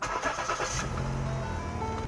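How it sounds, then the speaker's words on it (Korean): A used Lincoln New MKS premium full-size sedan starting up: a loud, close crank and catch that settles into a steady, smooth idle hum, with no voices. "시동 먼저 걸어보겠습니다"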